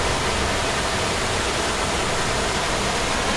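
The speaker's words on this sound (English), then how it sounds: "The epic waterfall in Liliʻuokalani Botanical Garden." A small waterfall in Liliʻuokalani Botanical Garden, Honolulu, gives a steady, even rush of falling water, constant and close with no other sounds.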